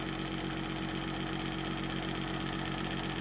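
Steady mechanical chugging of a small stationary steam engine running on compressed air at an even pace, a continuous rhythmic thrum with no talking.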